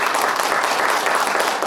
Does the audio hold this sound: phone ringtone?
no